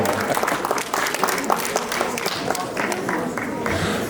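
Applause from spectators at a cat show, a steady, moderately loud patter of clapping filling the hall, with crowd noise and possible voices mixed in.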